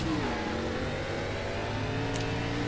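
Race car engine in the iRacing sim at an ARCA race at Kentucky, accelerating hard off the green-flag start: a loud, steady roar with rising pitch over a few seconds, continuous and close.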